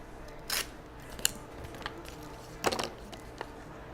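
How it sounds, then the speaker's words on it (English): Tape being cut during a matting and framing job, a few sharp, crisp snips spaced out over a few seconds, close and fairly quiet in a calm room. "Cut another piece of tape."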